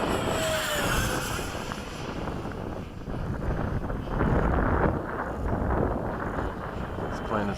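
A model MiG-21 jet flying at a flying field, a continuous loud whooshing roar that swells and eases as it passes, mixed with heavy wind buffeting on the microphone.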